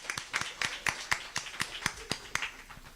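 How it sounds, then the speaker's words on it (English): A small audience claps steadily after being asked to applaud themselves, a dozen or so sharp, fairly close claps falling in a loose, roughly even rhythm with light room noise between them. "Y'all give yourselves a round of applause."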